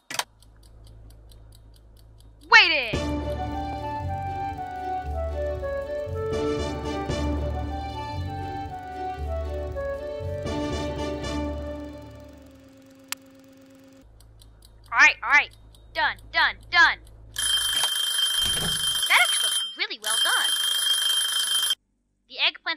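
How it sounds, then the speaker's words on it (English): A kitchen timer in the cooking game Cooking Simulator sets off a long stretch of ticking and chiming tones over a low hum, followed by several short bright rings, with a voice speaking briefly. "Grabbing timer."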